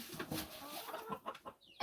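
Chickens clucking and fussing at feeding time on a farm, a steady jumble of close bird calls with scuffling, fairly quiet overall.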